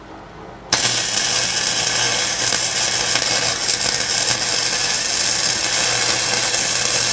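A welding machine tack welding on a Jeep Grand Cherokee fires up abruptly after a moment of quiet, then gives a loud, steady crackling hiss that carries on without a break to the end.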